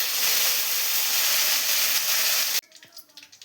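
Fennel seeds and curry leaves hit hot oil with a loud, continuous hissing sizzle that cuts off abruptly, leaving a few soft clatters and faint kitchen sounds.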